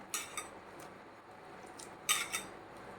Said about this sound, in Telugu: ఈ పాలు ఇట్లా అన్నంలో పోసి కలిపేసి